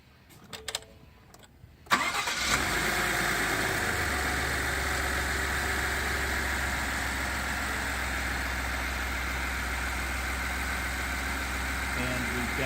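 A car engine cranks briefly and catches after a short stretch of quiet with tool noises, then settles into a steady, smooth idle that holds close and even to the end.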